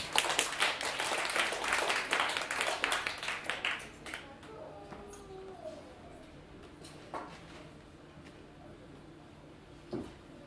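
Concert audience clapping in rhythm, as if keeping time for a saxophone and duduk improvisation, loud and dense at first, then stopping after about four seconds, leaving quiet room tone with a few faint knocks.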